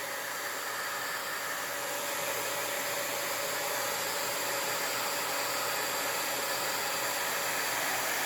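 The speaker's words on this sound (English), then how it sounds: "This is the same heat gun that you would use if you're going to do some embossing." An embossing heat gun blows continuously at close range, a steady loud airy whoosh with a faint motor whine and no pauses.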